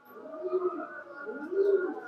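A pigeon coos in a loft of imported high-flyer pigeons, soft low throaty rolling calls repeated in a slow rhythm, close by and fairly quiet.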